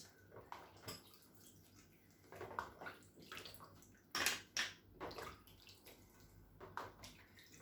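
Hot water is strained off blanched red onions, a quiet pouring and splashing with gurgles and drips that swell and ease in uneven bursts.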